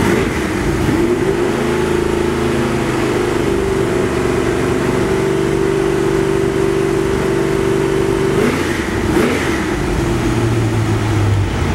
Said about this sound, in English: Those mufflers sound great.